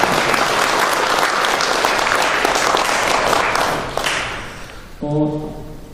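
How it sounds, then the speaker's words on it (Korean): A conference audience at an international fire investigation event applauds loudly at the close of a panel discussion. The dense clapping runs for about five seconds, then fades as a brief tonal sound takes over. "큰 박수 부탁드리겠습니다"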